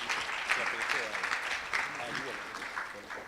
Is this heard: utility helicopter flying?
no